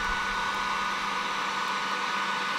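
A heat gun blows steadily on a frozen swingarm bolt of a 1999 Suzuki RM250, a constant loud whooshing hiss up close with no voices.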